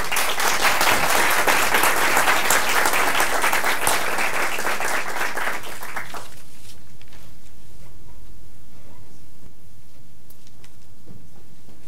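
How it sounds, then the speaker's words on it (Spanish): Audience applause welcoming Albie Sachs to the stage at a talk on social and economic rights in South Africa, loud steady clapping that fades out after about six seconds, leaving near silence. "Démosle por favor la bienvenida a Albi con un aplauso."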